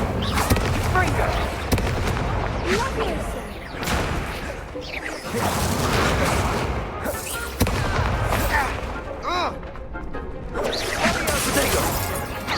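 Confringo spell blasts in the Hogwarts Legacy video game, repeated booming explosions and whooshes layered over busy combat effects and voices.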